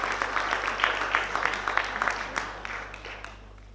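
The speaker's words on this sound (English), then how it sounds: "Let us welcome him with a round of applause." A seminar audience gives a round of applause, dense steady clapping that gradually thins and fades toward the end.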